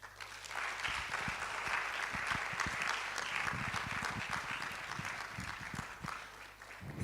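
Audience at a public lecture of the Ghana College of Physicians and Surgeons gives steady, dense applause for several seconds, a continuous wash of many hands clapping, slightly fading toward the end.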